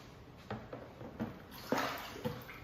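Drained whey from homemade Lebanese labneh poured away, with soft splashing pours and drips in several small bursts, faint and close, in a quiet kitchen.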